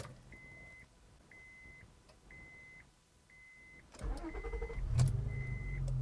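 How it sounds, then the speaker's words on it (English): A 2003 Acura 3.2CL J-series V6 starting with a key: a repeated chime pattern plays quietly, then the starter cranks and the engine catches and settles into a steady nearby idle. "you just put your key in the ignition and start it to go."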